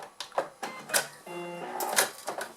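A sewing machine stitches piping onto a faux leather crossbody bag in short bursts of close mechanical whirring, with brief pauses between runs of stitching.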